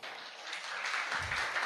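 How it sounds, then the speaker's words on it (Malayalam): A group of children in a classroom claps together, a brief, fairly faint burst of dense patter that thickens toward the end. "അപ്പം അതിന് മുന്നേ ഒന്ന് ക്ലാപ്പ് ചെയ്യാം അല്ലേ."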